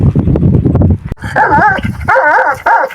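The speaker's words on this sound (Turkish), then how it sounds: "Bak havlaması bile e, gösteriyor arkadaşlar daha yavru olduğunu" Yappy barks and whimpering yips from a young puppy dog, several short close calls in quick succession with thin, high squeaky whines in the second half.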